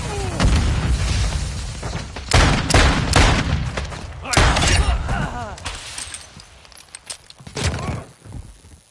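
Grenade blasts and gunfire in Call of Duty: Modern Warfare 2, a run of loud booms and bursts with a sharp detonation near the middle and smaller pops after it, mixed with footsteps and game voice callouts.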